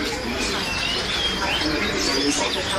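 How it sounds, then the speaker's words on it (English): Small birds chirp faintly at the Hong Kong bird market, with thin, high calls rising over a constant crowded din and people talking nearby. "This is the bird market in Hong Kong."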